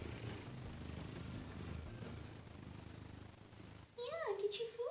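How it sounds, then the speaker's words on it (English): A cat purrs close by in a steady, rumbling drone for several seconds before a high voice cuts in near the end. "Can you hear her purring?"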